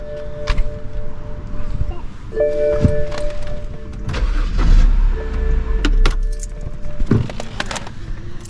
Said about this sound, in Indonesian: ini lagi manasin mobil karena ditinggal di Indonesia 2 bulan